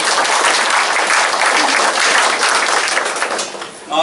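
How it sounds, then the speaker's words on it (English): Crowd applause at a Memorial Day ceremony in Berlin, Connecticut, a dense, steady wash of many hands clapping that holds loud for about four seconds before easing slightly at the end. "if you give yourselves a round of applause, that'd be awesome."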